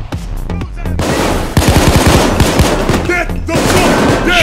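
Rapid automatic gunfire bursts loud and close in the video game Payday 2, dense volleys of shots layered with game effects and occasional muffled talk.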